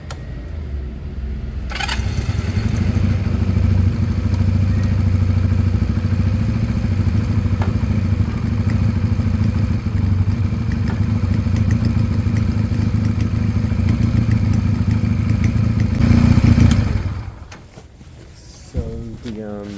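A Sinnis Cruisestar 125cc motorcycle engine idles with a steady low rumble, close and loud, for most of the span before cutting out near the end, with some clattering around it.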